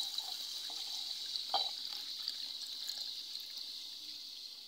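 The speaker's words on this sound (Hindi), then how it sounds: "अब इस छलनी में मैं छान लूंगी अजवाइन को" Water pours steadily through a kitchen sieve as washed carom seeds (ajwain) are strained, a soft continuous splashing hiss with a brief louder splash partway through.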